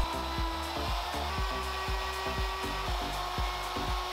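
A CNC machine flattens a long wooden speargun blank in sections, giving a steady high motor whine over a regular, repeating low rumble from the cutter passing across the wood, close and continuous.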